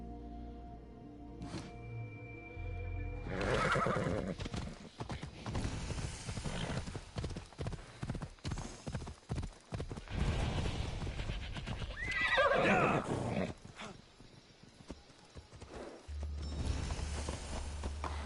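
A horse in the video game Assassin's Creed Odyssey, with rapid hoof clip-clops at a gallop and loud neighs and whinnies, set against game music and effects.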